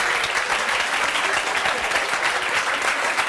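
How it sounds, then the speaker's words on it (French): A studio audience on a French television talk show claps for a volunteer, dense steady applause that fills the room throughout without pause. "On peut l'applaudir."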